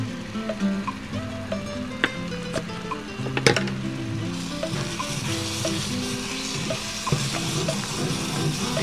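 Spice paste with coriander and turmeric stir-fried in a pan, a steady close sizzle with scraping stirs and occasional sharp clicks of the utensil against the pan, no talk.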